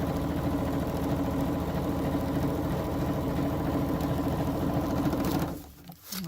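Sewing machine running steadily as it stitches a wide half-inch seam through string-pieced fabric blocks, a continuous close whir that stops abruptly near the end.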